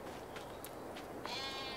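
Sheep on a farm bleat twice in quick succession, fairly close, over a low steady background hum.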